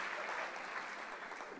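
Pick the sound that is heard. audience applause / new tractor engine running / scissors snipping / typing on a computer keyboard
audience applause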